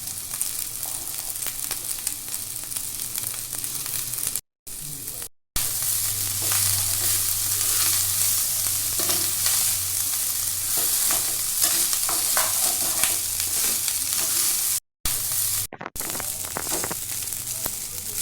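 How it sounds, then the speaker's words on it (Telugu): Rice being stirred into cauliflower masala in a frying pan, a continuous close sizzle with the rhythmic scrape of a spatula through the grains, briefly broken by short gaps. "2 కప్స్ రైస్ వేసుకొని కలుపుకోవాలి. అన్నీ కలిపేలాగా కలుపుకోవాలి."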